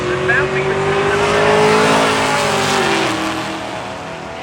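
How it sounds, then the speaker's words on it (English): A 1980 Mustang and a Mopar drag race car launch side by side at a drag strip, engines roaring loud and close with a rising rev and brief tire squeal, fading slightly as they pull away. "here comes our next pair of cars, the 1980 model Mustang left-hand side"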